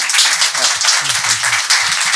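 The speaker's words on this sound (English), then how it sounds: "please join me in applauding his wonderful contributions" Audience applause for an ambassador at a forum on UAE–India strategic relations: steady, close clapping from many hands filling the clip, with a voice speaking briefly underneath.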